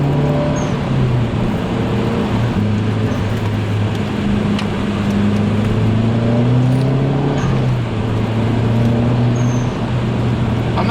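Mazdaspeed 3 engine droning steadily from inside the moving car at low to moderate revs, with a continuous hum and gently rising and falling pitch, plus road and tire noise throughout.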